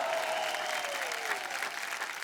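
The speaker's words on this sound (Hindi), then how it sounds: "जोरदार तालियां।" A crowd claps steadily and densely, a sustained wash of applause throughout, with a faint tonal sweep fading beneath it.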